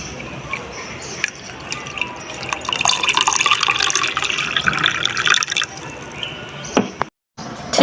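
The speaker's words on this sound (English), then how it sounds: "To pour." Liquid pours in a continuous splashing stream for several seconds, close and fairly loud, trailing off into a few drips before a brief silence.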